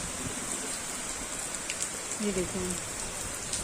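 Heavy rain on a rooftop during a downpour, a dense, constant hiss throughout, with a brief voice speaking over it near the end.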